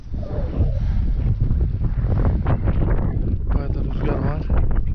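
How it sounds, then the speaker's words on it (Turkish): Strong wind gusting across open countryside and buffeting the microphone in a steady rumbling roar, with someone talking over it close by. "Bayağı da rüzgar var."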